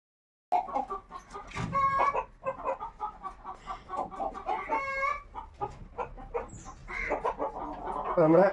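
Chickens clucking close by in a freshly cleaned coop, a steady run of short clucks and squawks with a couple of louder calls, and faint voices now and then.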